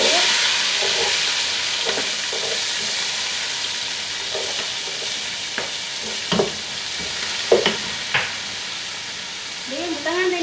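Garlic sizzles steadily in a hot pan with occasional spoon scrapes and stirring knocks, close and fairly loud, with a brief voice near the end.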